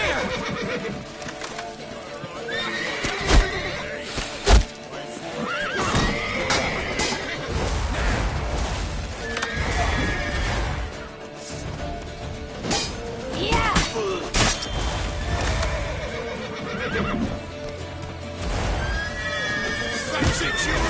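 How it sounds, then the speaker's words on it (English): A horse neighs and whinnies several times amid clip-clopping hooves, crashes and busy action sounds in The Witcher 3 video game, with voices shouting over the commotion. "Lead your horse!"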